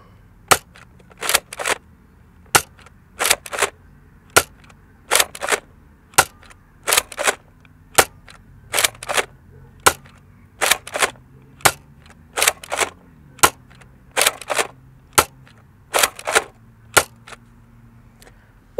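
A Nerf N-Strike Modulus blaster with the Barrelstrike barrel extension fires darts in a long series of sharp, snappy pops, often in quick pairs or triplets, with handling clicks between shots and no talking.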